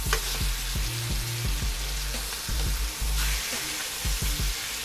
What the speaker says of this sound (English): So we're gonna sear one side, then we're just gonna flip it over and sear the other side.